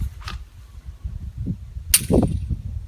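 A training pistol is loaded with a short mechanical rattle and click, then fires a single sharp, close report followed by a brief metallic ring.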